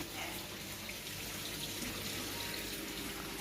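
Steady rushing flow of water pouring out of a quick-drain outlet on a backyard koi pond, a continuous faint wash with no talking.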